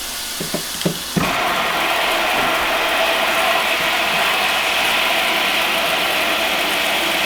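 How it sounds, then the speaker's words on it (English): Water pours steadily into a homemade portable bait tank, a constant loud hiss and splash that starts abruptly after a few small knocks and runs on without pause. "now I'm just going to fill it with some water"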